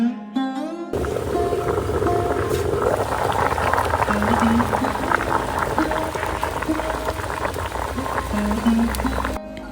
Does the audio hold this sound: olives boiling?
yes